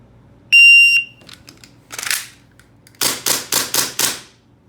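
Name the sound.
airsoft gun shots hitting a wireless timing target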